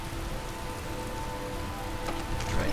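Rainfall in the video game Skyrim makes a continuous, close-sounding patter and hiss, swelling slightly near the end, with drops striking surfaces and no voices present.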